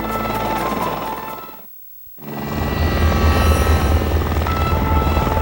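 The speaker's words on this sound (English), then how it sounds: "The helicopter is unable to land, and a rescuer must be lowered to the victim." Rescue helicopter hovering low over a jungle canopy in Fiji during an adventure race, its rotor thudding loud and steady, briefly cutting out before returning at full strength.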